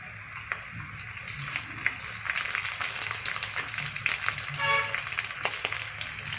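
Onions with green chilli pieces frying in a pan for tomato egg rice, a steady soft sizzle with occasional stirring scrapes and small pops, close by and without talk.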